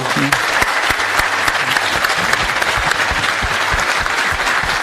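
Audience applause for a magician, a dense, sustained round of clapping from a crowd, loud and steady throughout, with some voices mixed in.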